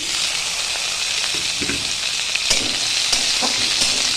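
Chopped onion frying together with garlic in a hot pan, giving a steady, close sizzle with occasional soft stirring scrapes and pops throughout, no talk.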